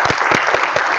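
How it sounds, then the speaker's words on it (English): Steady applause from a crowd at an IoT meetup, dense clapping throughout, loud and close, with no voices on top. "can we have a big round of applause for our organizers and for our speakers"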